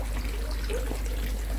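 Water trickling and splashing steadily while an aquarium filter is flushed out, a constant close wash of sound with a low hum beneath and no talking.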